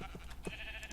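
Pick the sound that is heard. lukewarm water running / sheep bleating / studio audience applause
sheep bleating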